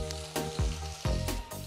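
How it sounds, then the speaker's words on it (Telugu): Green chillies fry in a pan of oil for a tomato coriander chutney, giving a close, crackling sizzle broken by a few bright spatula scrapes and bursts as they are stirred. No one speaks. "పచ్చిమిర్చి వేసి పచ్చిమిర్చిని వేయించండి"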